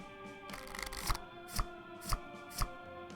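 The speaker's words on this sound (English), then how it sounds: "Okay, you gotta shuffle it." Cards shuffling in a video game blackjack minigame, a soft riffle followed by a few evenly spaced crisp card snaps, faint and with no speech.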